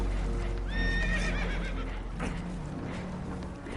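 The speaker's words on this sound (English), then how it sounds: "Horses are spooked" Spooked horses in a PS4 video game neigh in a clear high whinny over a low rumbling background, with a few hoof clops and scattered movement sounds.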